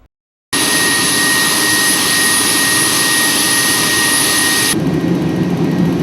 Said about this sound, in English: the P-3 flies right into the eye of the storm.